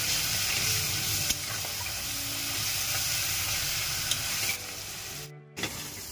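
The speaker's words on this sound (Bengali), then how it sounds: "মশলাটা একটু ভালো করে কষিয়ে নেব।" Spices with ground coriander and chilli powder sizzle steadily in a pan while being stirred, with occasional scraping clicks, before a brief abrupt break near the end.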